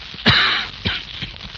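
Two short, harsh coughs from a man, one burst near the start and another about half a second later, close and fairly loud in a quiet room setting of an old radio drama.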